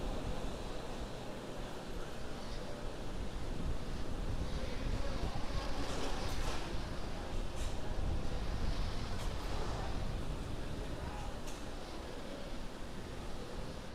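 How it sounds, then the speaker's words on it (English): A SpaceX Falcon 9 climbs during the GPS III-03 launch with its nine Merlin 1D engines back at full power, a steady, dense broadband roar that rumbles on without a break for the whole stretch and carries no voices. "The 9 Merlin 1D engines going back to full power."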